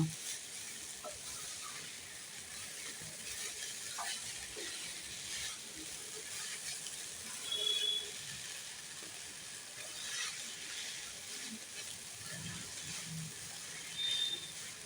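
Rice fries in white oil for fried rice, giving a steady, even sizzle and hiss with occasional faint clicks and stirring scrapes that stays moderately quiet throughout.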